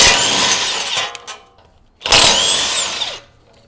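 A power tool loosens the 19mm bolts holding the lower control arm to the knuckle on a Toyota 4Runner, giving two loud close whirring bursts of about a second each, separated by a short quieter gap.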